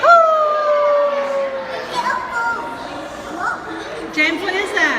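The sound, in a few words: coyotes howling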